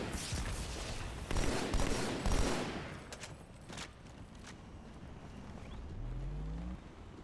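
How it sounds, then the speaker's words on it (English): A grenade in Halo 2 rebounds toward the thrower and blows up, heard as a burst of gunfire and a blast followed by a fading rumble, then low engine-like droning near the end, with no speech. "I threw a grenade and it bounced back."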